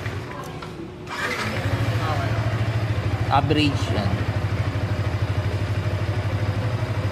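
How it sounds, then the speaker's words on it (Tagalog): A 2025 Yamaha R15M motorcycle engine cranks and catches after about a second, then settles into a steady, close, rhythmic idle that continues to the end, with someone talking briefly over it. "Kasi umaandar na yung motor."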